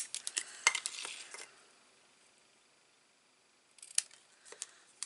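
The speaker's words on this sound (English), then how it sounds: "I'm just going to snip that end off" Scissors snip the end off a paper rose for a stamped card, giving a few quick, crisp close-up cuts at the start and a couple more near the end, with quiet gaps between.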